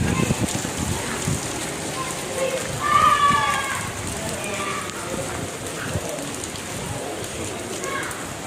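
Heavy rain pours in a constant, close wash of noise, with a short stretch of voice partway through.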